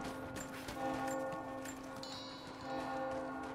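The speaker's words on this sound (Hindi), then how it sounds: "अरे भाई ये लो, खतरे की घंटी बजने लगी" Inside the video game Rise of the Tomb Raider, an alarm bell rings with a sustained, fairly faint metallic tone over low background game ambience.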